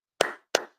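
Two crisp hand claps, evenly spaced, close and clear against silence.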